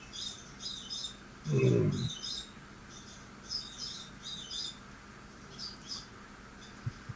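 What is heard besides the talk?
birds chirping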